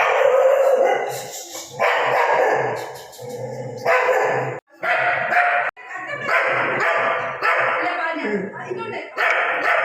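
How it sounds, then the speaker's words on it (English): A dog barks and howls repeatedly in loud, close bursts with short gaps, while people talk in a home during Golu visits. "Wondering what's the noise? It's their sweet dog Rocky."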